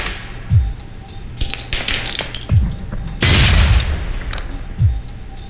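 A truck's gas tank blows up after a grenade in the video game Alpha Protocol: a loud, broad explosive blast with crackling debris, framed by several thumping game impacts and gunfire-like bursts.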